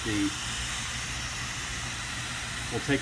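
Steady broadband hiss of steam venting from an Instant Pot pressure cooker covered with a towel, continuous and fairly loud throughout, with a brief murmur of voice at the start and end.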